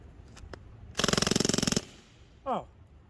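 An Umarex StrikeForce airgun fires on full auto, a loud, rapid string of about fifteen shots in under a second, followed by a short voice.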